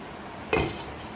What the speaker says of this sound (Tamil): இதை நல்லா கலந்து இப்போ மூடி போட்டு மூடி வச்சிடலாம்.